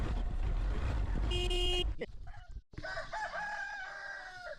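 A rooster crows loudly with a harmonic, rising call, followed by a second fainter crow over rustling background noise.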